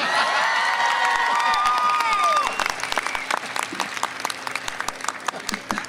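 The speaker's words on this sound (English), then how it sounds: "Go ahead and clap." A commencement crowd at a 2015 college graduation bursts into applause with cheers and whoops, loud at first, then thinning into scattered claps.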